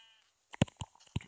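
A Minecraft sheep gives a few short, close bleats in quick succession after a brief quiet moment.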